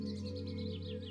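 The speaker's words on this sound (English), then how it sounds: "Maybe you can hear birdsong" Soft birdsong with light, repeated chirps drifts over a steady, calm tonal drone in a peaceful outdoor garden scene, faint and continuous throughout.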